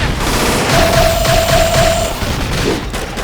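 Beam Barrage fires in the Xenoblade Chronicles X video game as a dense burst of rapid energy shots with a sustained electronic tone riding over the volley, loud and close, without speech.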